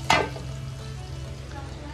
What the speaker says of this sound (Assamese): দালি আৰু কেপচিকাম আলু ভাজি